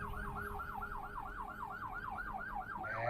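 A SAMU ambulance siren wails in a rapid, regular up-and-down sweep, heard at a moderate distance over low road rumble, with no talking.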